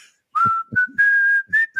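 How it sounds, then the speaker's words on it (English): A sustained high whistle holds one steady pitch across several phrases, with short breaks between them, close by and clear against light background noise. "the really high whistle"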